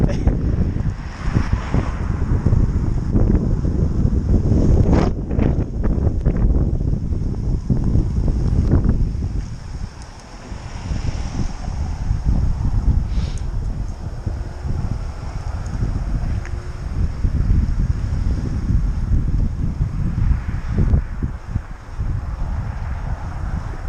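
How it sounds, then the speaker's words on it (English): Heavy wind buffets the microphone of a cyclist climbing Box Hill in a continuous low roar, with gusts rising and falling and a brief lull partway through. "Really rather windy here."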